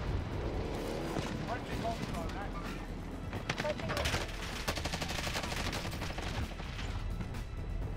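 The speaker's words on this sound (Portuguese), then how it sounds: "O cara tava me atirando." Call of Duty Warzone gunfire crackles in bursts of rapid shots with distant booms, mixed into busy game sound, while a player talks over it.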